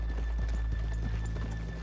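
Horse hooves clip-clop in Red Dead Redemption 2, a quick steady rhythm of light, close hoofbeats over a low constant hum, with no talk.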